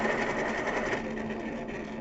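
An electric pencil sharpener grinds a pencil in a steady, dense buzzing whir that holds at an even level for about two seconds, close and moderately loud, with no talking.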